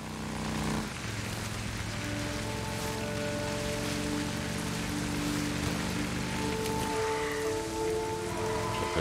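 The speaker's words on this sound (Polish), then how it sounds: "Ale nie, czekajcie, pada deszcz." Steady rain pours across a surface in the open-world game Days Gone, a dense, continuous hiss that runs unbroken for the whole stretch with low in-game ambience beneath it.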